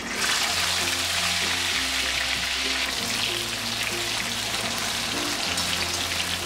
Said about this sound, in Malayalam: എണ്ണ ചൂടാകുമ്പോഴേക്ക് ഈ എടുത്തു വെച്ചിരിക്കുന്ന ചക്ക ഇതിലേക്ക് ഇട്ട് കൊടുക്കാം